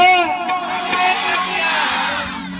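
A crowd shouts together at a village folk event, a loud burst of many voices that rises and then holds as a sustained cheer.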